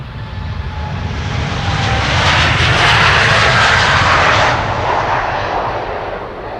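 A Boeing 787-10 Dreamliner departs Amsterdam Schiphol, its jet engines building to a broad, loud roar that peaks mid-way and then eases slightly, heard alone without voices.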